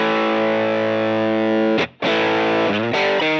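A distorted electric guitar, lightly compressed through a Filmosound tube amp, sustains a thick, smooth chord, briefly cuts out, then returns with a few changing chords, loud and even.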